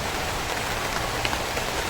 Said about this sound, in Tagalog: Naku, lakas ng ulan.